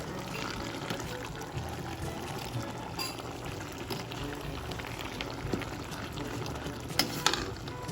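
A pan of ginataang ubod ng niyog, coconut heart of palm in coconut milk with bagoong, simmers and bubbles with a soft sizzle while a utensil stirs through it, scraping lightly, close by and steady throughout.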